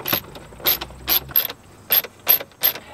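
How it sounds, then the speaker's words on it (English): Two T20 screws holding a BMW head unit are loosened by hand with a ratcheting tool, giving a close series of about seven short, crisp clicking ratchet strokes with brief gaps between them. "So just go ahead and remove these two screws."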